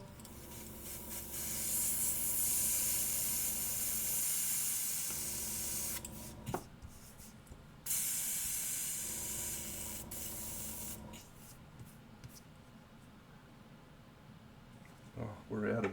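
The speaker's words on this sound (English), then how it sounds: "airbrush on" Airbrush spraying paint onto a miniature, bursts of airy hiss lasting a few seconds each with pauses between, close, with a voice speaking at times.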